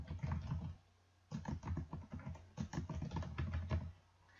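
Quick, close keystrokes clatter on a computer keyboard as a name is typed into an Excel spreadsheet, in two bursts separated by a brief pause.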